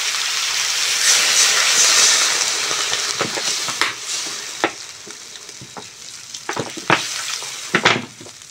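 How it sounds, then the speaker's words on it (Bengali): Water poured into a hot pan of fish curry bursts into a loud hissing sizzle that slowly settles, followed by a series of sharp clanks from a spoon or ladle against the pan. "এবার জল দিয়ে দেবো।"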